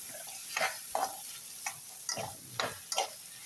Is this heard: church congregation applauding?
no